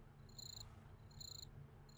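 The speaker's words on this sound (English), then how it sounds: "There are crickets on my roof." Crickets in Minecraft chirp in short, faint bursts that repeat about every half-second over a low, quiet background hum, with no talk.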